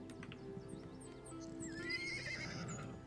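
Horse neighing with clip-clopping hooves in the video game Destroy All Humans!, a quiet, close whinny over a soft, rhythmic trot, alone without any talk.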